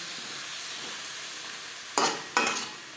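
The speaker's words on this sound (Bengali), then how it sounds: "পেঁয়াজের সাথে চিকেন বেশ ভালো করে মিক্স করে দেবো" Chicken and onions stirred in a hot cooking pan for biryani: a steady, soft frying sizzle, then two quick scraping strokes of a spoon across the pan near the end.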